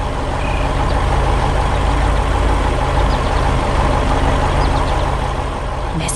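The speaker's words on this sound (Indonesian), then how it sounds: "Mesin-mesin sedang bekerja keras." Truck engines in an animated cartoon about a tractor race harvesting sunflowers on farmland run with a steady, dense rumble that holds at an even loudness throughout.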